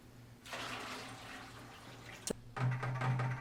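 Clean, cool drinking water is poured into an empty pail for mixing, a steady rushing splash that starts after a short pause, breaks off briefly, then resumes with a fuller, louder flow.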